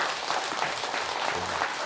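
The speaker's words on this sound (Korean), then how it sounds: "이런 박수는 거짓 박수입니다." A Saturday dharma service audience gives a short burst of applause, dense and steady hand-clapping from a crowd filling the room at moderate loudness.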